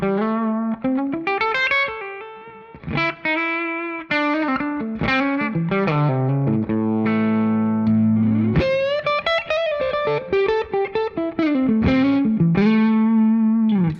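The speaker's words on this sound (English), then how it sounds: "I'm playing my beautiful Gibson Les Paul Standard, playing one of these tone models" Gibson Les Paul Standard electric guitar played through a TONEX amp tone model, distorted chords and single notes ringing with sustained held tones, loud and up close, no talking.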